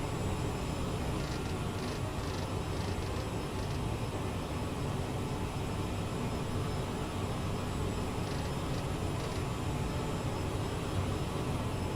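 A steady, dense roar fills the scene from the engines of an Aerosoft CRJ jet cruising in Microsoft Flight Simulator, unchanging throughout, with faint intermittent ticks high above the drone.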